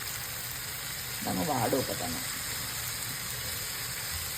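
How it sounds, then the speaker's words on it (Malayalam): Chopped spinach (palak) sizzling in a small pan for spinach and egg thoran, a steady close hiss that continues under a brief spoken remark. "ഇനി അതിനകത്തേക്ക് നമ്മൾ അരിഞ്ഞു വെച്ചിരിക്കുന്ന പാലക്ക് ഇടുക"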